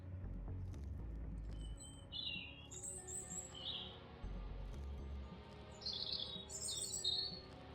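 Game birds chirp and tweet in short bright bursts in a Darkside Detective scene, a few calls scattered over a low, steady ambient hum with no talking.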